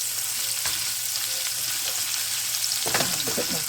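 Steak fries in oil in a pan with a loud, steady sizzle throughout, and a burst of crackling spatter near the end.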